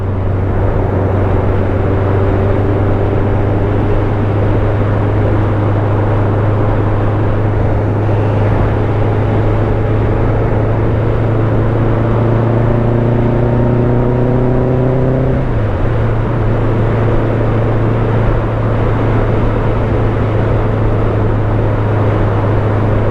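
BMW K100LT motorcycle with a sidecar being ridden, a steady droning engine note climbing slowly in pitch through the gears, then dropping after a shift, under constant wind and road noise.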